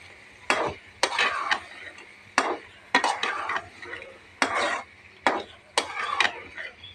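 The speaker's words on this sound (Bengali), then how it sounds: "এটাকে অ্যাড করে দিলাম। আবার এটাকে আমি ভালো করে কষাবো।" Pounded beef being stirred and fried in a pot, with repeated scraping strokes of a spoon at a steady rhythm, about eight strokes, each sharp at the start and trailing off, close by over a quiet frying sizzle.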